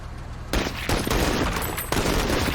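Military video game battle gunfire crackles as a dense, steady barrage of overlapping shots and distant booms, loud and continuous throughout with no talk over it.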